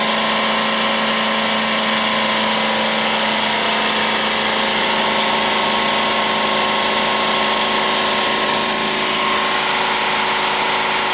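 A Jeep CJ engine with a Carter BBD carburetor, cranking over during carburetor diagnosis with the fuel filter hooked up, gives a loud, steady mechanical drone that continues unbroken throughout, with no talking.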